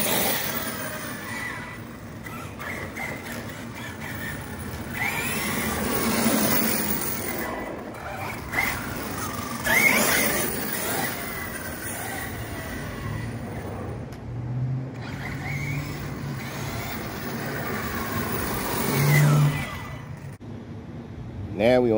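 An Arrma Notorious V5 6S radio-controlled car drives at half throttle, its electric motor giving a continuous whine with surges and wind noise, while a person talks over it.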